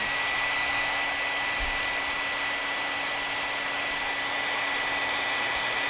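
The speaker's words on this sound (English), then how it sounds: "Where's that hair dryer?" A hair dryer blows steadily and loudly from start to finish, a constant whooshing roar with a faint high whine above it.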